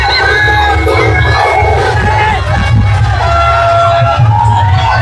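Loud, sustained roar of a large crowd cheering and yelling at the village palanquin festival for Aai Raibadevi in Rave, many voices shouting together without pause.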